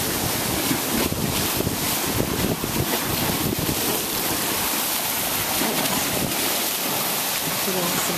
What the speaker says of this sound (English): The lake is choppy today, as usual.